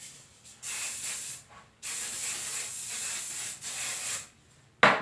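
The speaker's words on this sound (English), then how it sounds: "I forgot to spray my hair." Several bursts of aerosol spray hiss close by, each lasting about a second or more, separated by short pauses, ending with a brief rustle.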